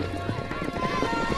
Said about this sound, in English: Outside, we watch the kids round up some of their horses.